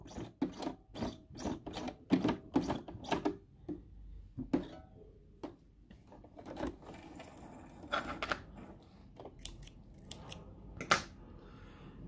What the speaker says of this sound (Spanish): Y lo que hacemos aquí es cortar el cordón que sobra.